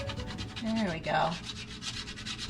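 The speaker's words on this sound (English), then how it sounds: "Had to scrape that sucker off." Sticky residue being scraped off a fridge surface, a close, continuous rubbing scrape that rises briefly in the middle and carries on steadily.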